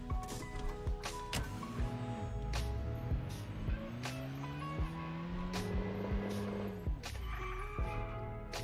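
A car driven in the video game Arma Reforger, its engine revving with rising and falling pitch as it shifts through gears, with sharp clunks and bumps over terrain, loud and close with no talking.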